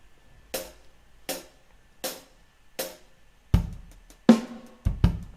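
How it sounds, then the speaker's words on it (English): A slow funk drum loop plays: sparse hits spaced about a second apart, then heavier kick and snare strikes come in closer together, dry and punchy with nothing else over them. "find an actual drum loop and play along with it"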